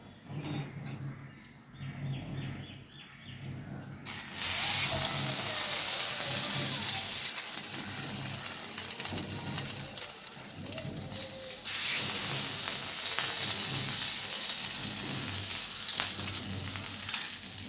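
French toast, bread dipped in egg, fries in ghee on a hot dosa griddle, a quiet crackle at first, then a loud, steady sizzle that continues close up.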